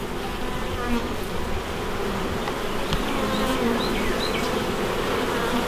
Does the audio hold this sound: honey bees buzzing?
yes